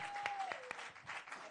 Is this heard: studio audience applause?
yes